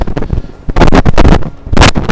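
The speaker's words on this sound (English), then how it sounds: "another windy day." Gusty wind buffeting a wireless microphone outdoors on a New York City street, loud rumbling bursts coming and going in uneven waves.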